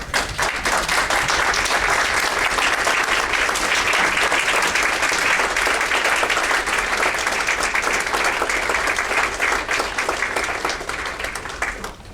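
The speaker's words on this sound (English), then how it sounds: "I would appreciate if audience stands and applaud Jim." A medical symposium audience stands and applauds a cardiologist, producing dense, sustained clapping from a large crowd that stays loud and even for about twelve seconds before tapering slightly at the end.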